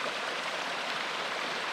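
Stream water flowing steadily while bottles are filled on a thru-hike along the PMT, a continuous close rushing and splashing with no pauses and no talk.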